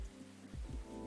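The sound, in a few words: rain falling, from the video game Coffee Talk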